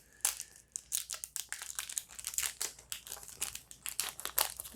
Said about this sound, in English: I just absolutely wrecked that packaging